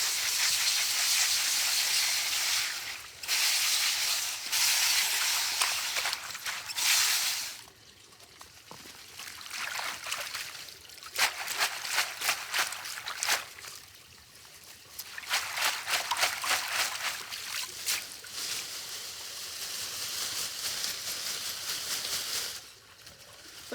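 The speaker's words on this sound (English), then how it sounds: "First rinse is done, and now it's going to be time for a second rinse." Fresh garden celery is rinsed in water, with a close, steady splashing and trickling that pauses briefly several times and then resumes in bursts of swishing and dripping.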